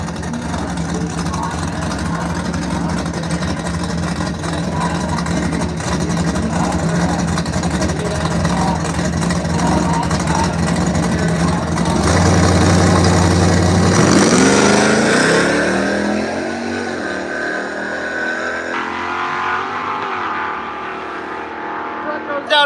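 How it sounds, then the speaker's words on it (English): A Chevy truck and a Shelby Mustang race down a drag strip at a racing event, engines roaring steadily, then swelling loudly in a rising, accelerating pass before fading away, with a voice talking over the engine noise. "we have a Chevy truck over here, of course, and then a Shelby Mustang over in that left lane"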